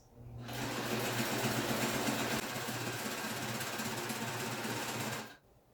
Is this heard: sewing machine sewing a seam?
yes